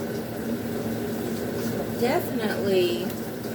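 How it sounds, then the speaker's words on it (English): Homemade blackberry jam bubbles on a stovetop with a steady, moderately loud hiss and simmer, while a voice speaks faintly over it. "Put it on the stove and let it boil"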